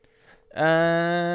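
A telephone rings on an outgoing call, a single steady harmonic ring tone starting after a brief faint click and holding loud and clear, with no talk.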